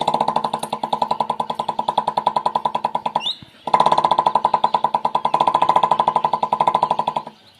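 A man imitates a Royal Enfield Bullet motorcycle with his voice, a steady rapid thumping putt-putt held for several seconds, broken by a short gap, then resumed loud and close before stopping.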